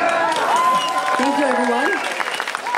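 Applause from an audience at an awards segment of a music festival's anniversary event, a dense broadband patter running steadily through the clip while someone talks over it near the microphone.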